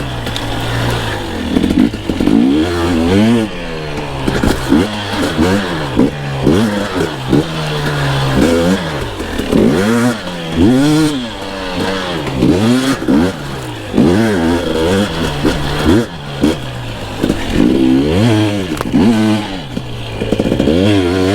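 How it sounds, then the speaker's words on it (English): New two-stroke dirt bike engine revving hard while riding, loud and close with rapid rising and falling pitch sweeps as the throttle opens and closes repeatedly, continuous throughout. "I'm really digging the sound of the two-stroke"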